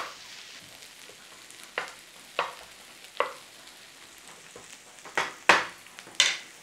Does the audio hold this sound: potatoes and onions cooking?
yes